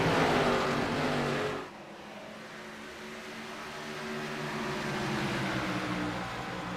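A race car at Iowa Speedway completing a pass in turn three: a steady, droning engine note carries throughout, easing slightly after an early drop in level, with no voices.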